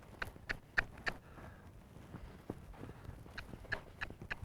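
Hooves of an off-the-track Thoroughbred horse strike the ground in an uneven clip-clop as it moves back and forth, fairly close, with no talk over it.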